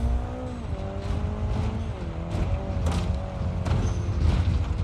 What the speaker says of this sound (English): Pull the handbrake. Oh my god, it just slides.